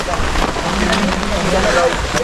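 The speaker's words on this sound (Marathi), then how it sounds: "फुल वाढत चालले पाऊस." Steady, heavy rain with gusting wind roaring against the microphone near a temple in fog, continuous and loud throughout.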